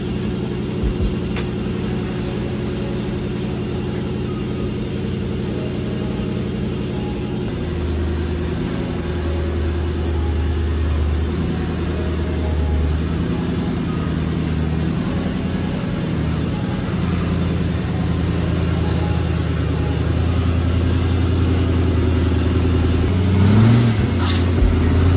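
A drift car's engine runs steadily while driving, a continuous low rumble that holds throughout and shifts pitch partway through, with a brief revving swell near the end.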